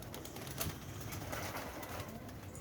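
Racing pigeons coo softly in the distance over a constant background hiss, with faint fluttering and no voices.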